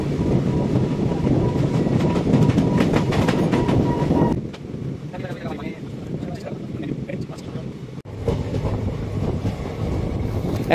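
The Kanchankanya Express 13150 runs on rails between Siliguri and Kolkata, heard from on board as a continuous loud rumble and rattle that dips briefly partway through before resuming.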